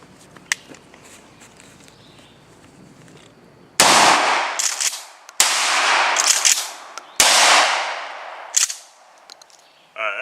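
Three loud buckshot blasts from a Remington Tac-14 shotgun, several seconds apart, each a sharp crack with a long rumbling decay outdoors. A quiet stretch with faint handling noises comes before the first shot.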